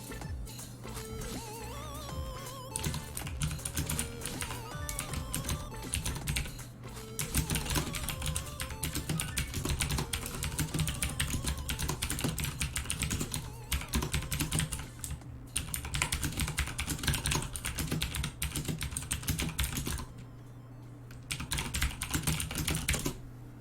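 Rapid clicking of B0XX all-button controller inputs during Super Smash Bros. Melee practice, dense and continuous like fast typing on a keyboard, steady and close throughout with brief pauses, no talk.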